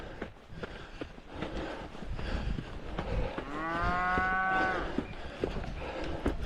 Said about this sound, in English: That is indeed a real cow.